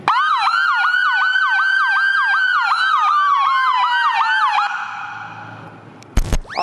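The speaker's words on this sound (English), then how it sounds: "All lights, sirens are going." A loud siren from a Ford Explorer police car yelps in rapid, repeating sweeps for several seconds, then winds down, ending with a sharp electronic blip.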